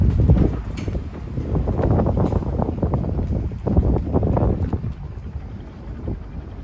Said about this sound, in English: This is the junk style boat that we're on.